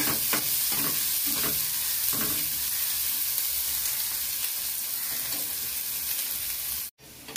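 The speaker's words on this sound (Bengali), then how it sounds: "পেঁয়াজটা ভাজা হয়ে গেছে।" Onion frying with salt in a pan, a dense continuous sizzle heard close and alone for several seconds before cutting out abruptly near the end.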